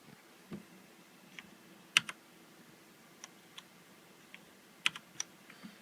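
Scattered, irregular keystrokes on a Ducky Shine 2 backlit keyboard, about a dozen sharp clicks with uneven gaps, close and fairly quiet with no voice.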